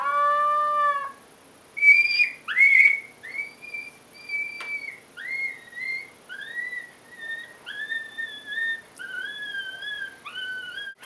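A series of high, rising electronic whistle-like yelps and squeals from a FoxPro Spitfire electronic game call imitating a coyote pup scream, repeated in short bursts with brief gaps, clear and close with no talking.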